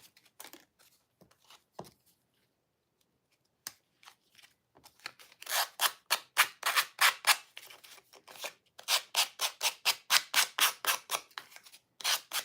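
Coarse-grit sandpaper rubbed by hand on a small craft Christmas tag, heard as a quick run of close, rhythmic scratchy strokes that start hesitantly and then settle into a steady back-and-forth pattern.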